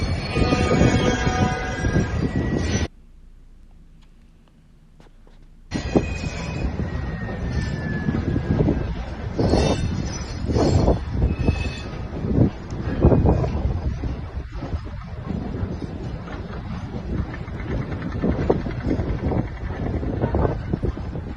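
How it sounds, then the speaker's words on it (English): A huge freight train carrying specialist military equipment rumbles past close by, a loud continuous roar and clatter of wagons with wind buffeting the microphone and a brief quieter gap early on. "A huge freight train moving specialist military equipment"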